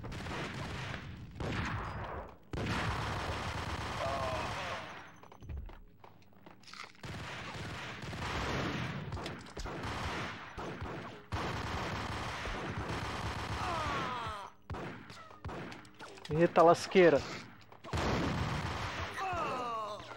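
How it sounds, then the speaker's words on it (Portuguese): Gunfire crackles from all sides during Max Payne on PlayStation 2, bursts of shots and impacts coming in uneven clusters with short quiet gaps between them. Someone talks briefly over the game. "Tá rolando tiro pra tudo que é lado aqui, maluco."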